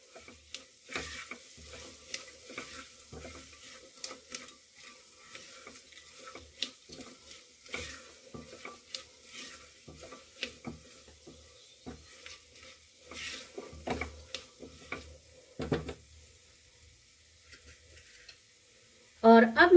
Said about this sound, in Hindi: इसमें भून लेंगे मसालों को भी।